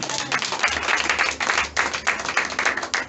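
A church congregation claps and applauds the Lord during a worship service, a dense, loud, sustained burst of many hands clapping with a faint low hum beneath.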